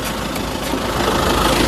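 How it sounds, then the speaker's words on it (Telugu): A 2013 Toyota Innova 2.5 V diesel engine idles steadily up close, a continuous low rumble with a faint knocking texture and no voices. "ఇంజన్ యొక్క నాయిస్ చాలా అంటే చాలా సైలెంట్గా అయితే ఉందండి"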